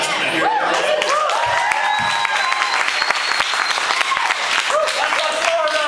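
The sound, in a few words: audience applause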